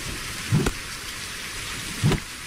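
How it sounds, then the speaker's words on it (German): Rain falling again in the medieval survival game Reign of Kings, a soft steady hiss of rainfall broken by two short, dull low thumps. "Es hat gerade aufgehört zu regnen und jetzt fängt es wieder an."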